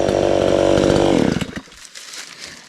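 A chainsaw cuts through an old, dried-out cashew tree, its engine loud and close before dropping off abruptly into quieter outdoor rustling.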